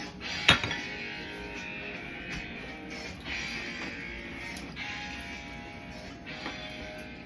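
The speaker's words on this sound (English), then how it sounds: "You just want to whisk it until it's all combined." A whisk beats lemon raspberry cream cheese oatmeal muffin batter in a bowl with a steady, brisk scraping swish and occasional sharp clinks against the side, close and continuous with no talking.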